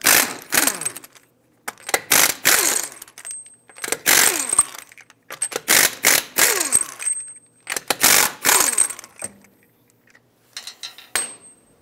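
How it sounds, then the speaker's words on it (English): Metallic clanks and clinks as five lug nuts come off a 2003-2007 Nissan Murano wheel with a 21 mm socket, several close, loud bursts of rattling metal separated by short pauses. "21 millimeter socket, take off all five of your lug nuts."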